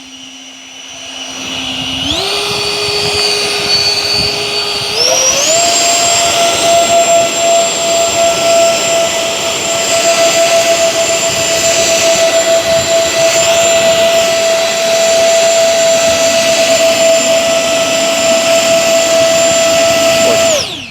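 A pair of 64mm electric ducted fans on an E-flite A-10 RC jet spools up at forward thrust. The close, loud whine steps up in pitch twice and then holds a steady high scream.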